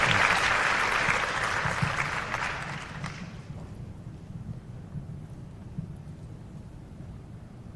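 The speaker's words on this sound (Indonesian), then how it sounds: "Tepuk tangan dulu buat saya yang tadi sudah terlibat." Audience applause at a youth leadership Q&A session in Jakarta, a broad burst of clapping that fades after about three seconds into quiet room noise.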